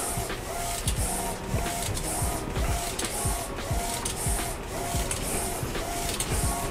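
A direct-to-film printer lays down the colour layer and then a white layer on transfer film, its print head carriage running in loud, rhythmic repeated passes with mechanical whirring and faint beeps.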